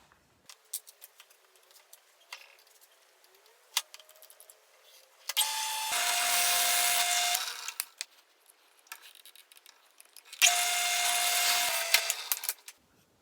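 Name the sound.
drilling wood with a 1/2-inch Forstner bit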